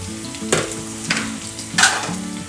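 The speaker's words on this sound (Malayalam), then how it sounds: "ഒരു ഉള്ളി അരിഞ്ഞിട്ടുണ്ടായിരുന്നു, അതുകൂടെ ഇട്ട് കൊടുക്കുവാണ്" Chopped onion and green chillies fry in a pan for spinach pachadi, a loud, close sizzle with three stirring bursts spaced about half a second apart.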